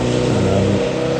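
A Ford Mondeo Ghia with a 3-litre engine and six-speed manual revs loudly at close range on the Castle Combe race track, its engine note rising and then dropping slightly in one steady burst.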